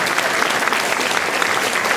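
A crowd at an Octobre Rose event applauds in a dense, continuous wash of clapping, loud and even throughout.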